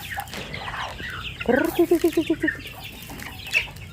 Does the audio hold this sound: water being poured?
no